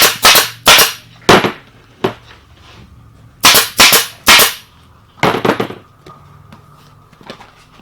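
A staple gun fastens a cover onto a motorcycle seat with sharp, loud snapping shots, some in quick pairs and triples, separated by short pauses and quiet handling noise.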